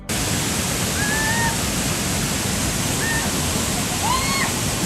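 A waterfall about six metres high on a rural tourism farm in Toledo, Brazil, gives a steady, loud, unbroken rush of falling water, with a few faint whistling bird chirps rising above it.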